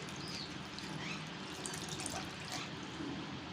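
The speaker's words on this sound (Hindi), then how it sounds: "ये देखें जी, पानी शामिल कर दिया।" Water is poured into a cooking pot holding brain meat, producing a soft, steady trickling and splashing that is faint and continuous, with no talking.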